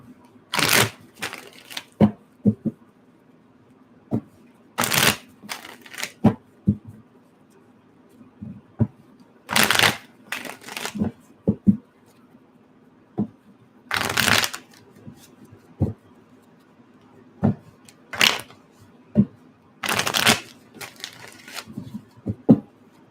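A deck of cards shuffled in repeated crisp riffling bursts, about every few seconds, with small taps and handling noises between them, close and clear.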